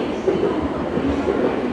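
A JR out-of-service train arrives at a platform, rumbling steadily along the rails with a low continuous roar and faint rhythmic clatter, fairly loud and close, no voices.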